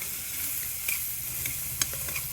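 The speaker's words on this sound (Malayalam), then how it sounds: "അപ്പോൾ നന്നായിട്ട് വഴറ്റിയെടുക്കുക." Ginger garlic paste with ground pepper masala sautés in a pan as a soft, steady sizzle with a few light stirring scrapes, quiet and close, no voices.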